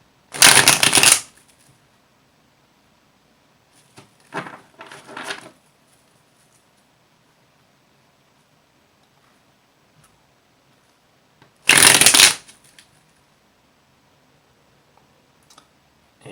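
Tarot cards shuffled by hand in two crisp bursts, with a few softer riffles and taps between them and long quiet gaps, close and alone with no talking.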